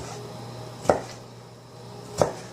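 Two crisp knife chops through vegetables on a cutting board while preparing a salad, each a short sharp knock about a second apart, close and fairly quiet with no talking.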